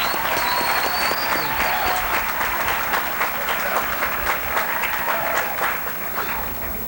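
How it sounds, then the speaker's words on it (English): Sustained applause from a large audience at a 1990 university commencement ceremony in a hall, many hands clapping steadily and slowly tapering toward the end, with a voice briefly audible underneath. "ask us all to give a round of applause to Scott McDonald and to all of those who worked to get Meade Hall ready"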